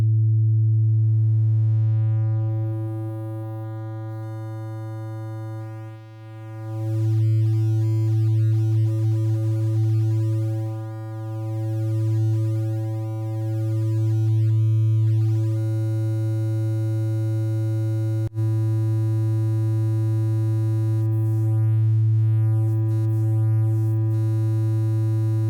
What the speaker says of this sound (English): we could get some pretty substantial distortion out of that sine wave just using one compressor